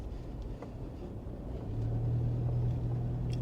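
A 2008 Toyota Land Cruiser rolling slowly at around 1200 RPM gives a soft, steady low engine rumble inside the cabin, rising slightly in loudness halfway through, with no talking.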